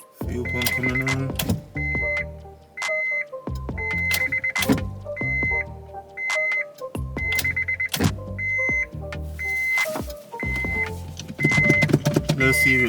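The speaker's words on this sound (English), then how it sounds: "Fuel pump coming on." A car's fuel pump primes as power reaches the dash, heard as repeated short electric whirs and clicks in a regular cycle, close and fairly quiet.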